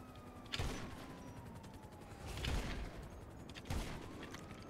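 Gunfire in GTA 5 Online, three separate sharp bursts spaced about two seconds apart over a faint background with a police siren wailing, fairly quiet overall.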